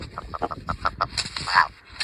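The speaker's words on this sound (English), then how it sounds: "Rock Ptarmigan." A rock ptarmigan gives a rapid series of short croaking, clucking notes followed by a longer rasping call, close and fairly loud against a noisy outdoor background.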